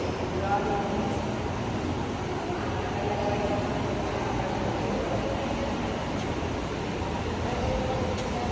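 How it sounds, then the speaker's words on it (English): Amtrak passenger train rolling through a Florida station on the Miami to New York route, a steady broadband rumble of wheels and cars held at even loudness throughout, with no distinct approach or fade. "An Amtrak train,"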